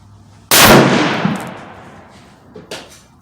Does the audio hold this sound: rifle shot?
yes